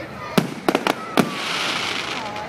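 Fireworks burst at a Bonfire Night display on a Nottingham recreation ground, several sharp cracks in quick succession followed by a crackling fizz, with voices of the crowd around.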